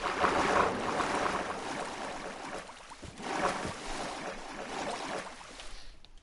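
Steady rushing, splashing video game water noise that swells and ebbs, fairly loud and continuous, fading out at the very end.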